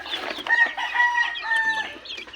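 A young stag rooster crows in a backyard, a single loud, close, drawn-out call lasting about two seconds.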